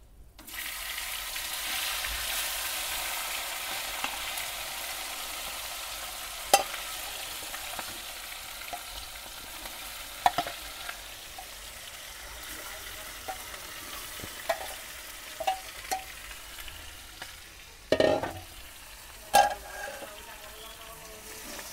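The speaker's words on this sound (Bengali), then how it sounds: "এবার আমি ম্যারিনেট করে রাখা মাংসগুলো এর মধ্যে দিয়ে দেবো।" Marinated chicken fries and is stirred in spiced oil for biryani, a continuous bright sizzle broken by scattered clinks and knocks of the stirring utensil against the pan, with a few louder strikes near the end.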